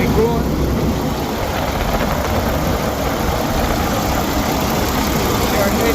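A broken delivery truck's engine running steadily at idle after repair, a loud, constant low rumble and hum filling the whole stretch without a break.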